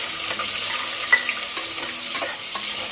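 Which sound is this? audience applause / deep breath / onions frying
onions frying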